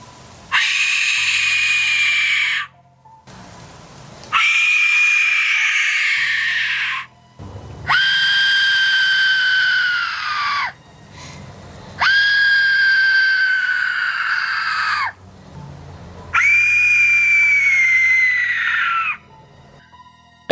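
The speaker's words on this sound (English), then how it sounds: "These are death whistles, and they are haunting." Aztec death whistles blown in five long, piercing scream-like blasts, each lasting about two to three seconds with short silent gaps between, loud and harsh.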